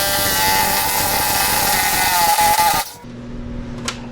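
A power tool whines loudly and steadily for about three seconds as it backs out a Loctite-coated skid bolt on a snowmobile, then stops abruptly, leaving a quieter low hum and a brief faint clink.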